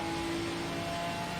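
A Ginetta GT4 race car in a racing video game at Circuit of the Americas drones on a steady, sustained engine note down the back straight, loud and continuous with no talk.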